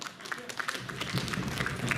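Scattered applause from a convention crowd at a cosplay event greets a comedian, uneven claps mixed with murmuring voices and room noise, moderately faint.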